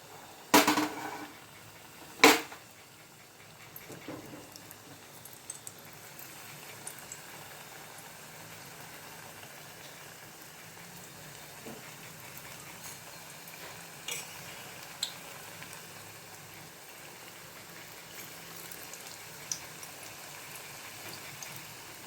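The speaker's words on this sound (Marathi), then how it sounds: "चला तर आपण फ्राय करूया।" Kothimbir vadi, flat round coriander fritters, frying in hot oil, giving a steady low bubbling crackle with a few sharp knocks early on and occasional light ticks throughout.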